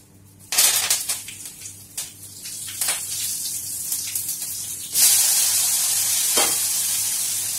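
Mustard seeds, asafoetida, green chilli and curry leaves hit hot oil in a pan and sizzle loudly. The frying hiss flares up in bursts with stirring clatter, then turns into a steady spitting crackle.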